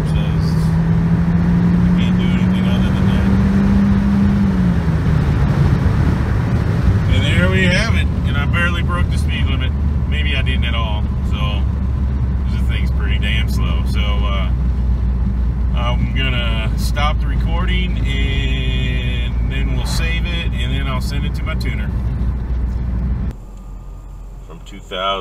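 A 2013 Ford Focus engine revs hard and climbs in pitch, drops briefly at each of several gear shifts, then pulls again, loud and close, with a steady low drone throughout and a brief voice at the start.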